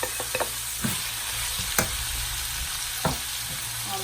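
Ginger, green chili, garlic and spices fry in a pan with a steady, close sizzle, broken by several sharp scrapes and clinks as a spoon stirs them, with no talking.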